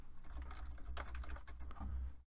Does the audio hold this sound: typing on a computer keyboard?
yes